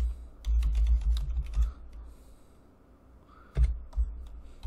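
Bursts of typing on a computer keyboard with a wired cable, quick clustered key clicks close to the mic, pausing briefly midway before a few more presses.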